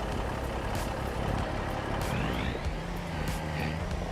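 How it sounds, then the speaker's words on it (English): A truck in the Farming Simulator 25 video game runs with a continuous low engine rumble and some shifting tone, steady and fairly close, with no talking. "let's grab our truck."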